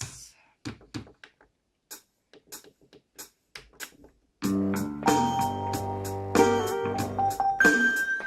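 A keyboard plays part of the GTA San Andreas theme: sparse clicks and short ticks at first, then sustained synth notes in a steady beat with a few higher tones layered over them.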